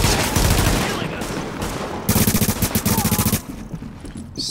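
Rapid automatic gunfire in The Division, loud bursts of repeated shots with a short pause in the middle, then a sustained fast volley before cutting off.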